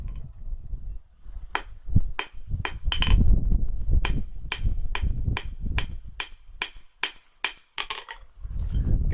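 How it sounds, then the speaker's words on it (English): Hammer blows flattening a steel bar while forging a belt buckle, a steady series of sharp ringing strikes on the anvil, close and loud, alone without talk. "I'm just flattening a section of that out."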